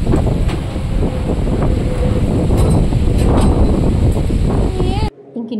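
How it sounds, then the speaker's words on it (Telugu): Wind blows hard outside a house, a continuous loud rushing buffet across the microphone that cuts off abruptly near the end. "ఇంటికి వచ్చేసరికి అయితే గాలి అయితే ఇలా వేస్తుంది"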